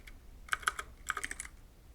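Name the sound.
typing on a computer keyboard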